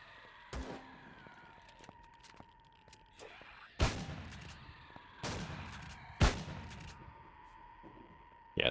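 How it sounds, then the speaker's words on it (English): A heavy shotgun firing in the space survival game Empyrion, a few sharp, loud blasts spaced several seconds apart, each with a short rumbling tail, over a faint background hum. "the Zerg's heavy shotgun is pretty damn good as well"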